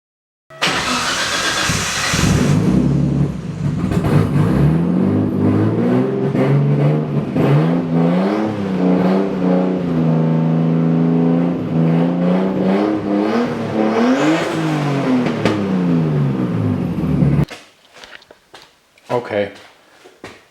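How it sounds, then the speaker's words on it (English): A car engine with a straight-pipe exhaust and only one muffler revs hard with a loud, raspy exhaust roar, its pitch climbing and falling for most of the clip before cutting off into near silence. "the exhaust is back in there with the straight pipe with only one muffler"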